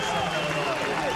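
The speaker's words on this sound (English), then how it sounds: "everybody's going to come out to the big-time applause and the well-deserved applause from the SIU" Crowd applause from SIU basketball fans fills the arena after SIU's 63–49 win over Mississippi State at the Anaheim Classic, a steady broad roar with a commentator talking over it.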